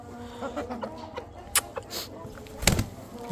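Chickens cluck close by while being fed, giving scattered short calls and pecking sounds, with one louder squawk near the end.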